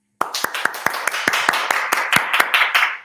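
Live studio audience at a political talk show bursts into applause, a dense close burst of many hands clapping with sharp individual claps standing out, building steadily for about three seconds with no speech.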